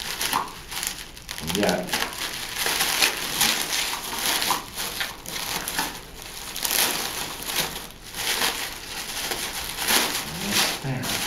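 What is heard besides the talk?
cutting open packaging of a Fallout Lanius prop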